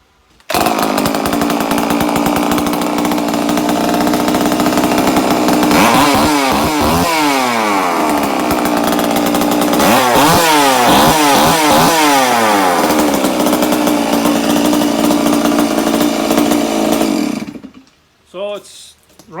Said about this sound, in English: So it's running pretty good now.